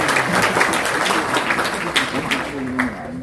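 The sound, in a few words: audience applause welcoming a speaker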